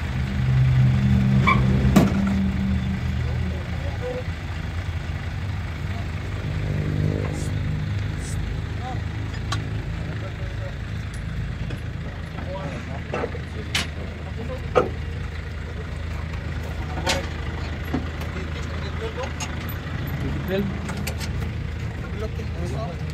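A vehicle engine idles during the unloading of trucks at a vehicle trading yard, a steady low rumble running under frequent talk, with occasional clanks and knocks scattered through the roughly twenty-three seconds.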